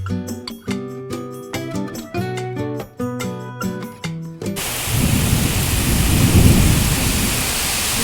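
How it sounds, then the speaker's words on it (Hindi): Heavy rain pours down in a sudden, loud, steady roar with deep thunder rumbling through it. Harmonic music plays alone for the first half before the downpour takes over. "बादल कितने जोर शोर से गरज रहे हैं,"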